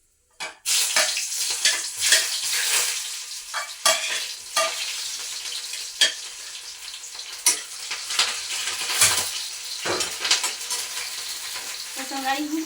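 Cumin seeds hit hot oil for tempering in a home kitchen, a loud continuous sizzle broken by repeated scraping stirs and utensil clinks against the pan.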